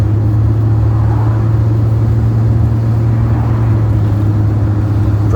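A car driven on the road after transmission work gives a steady, loud low engine drone and cabin rumble that stays even throughout, with no clear surge of acceleration and no voices.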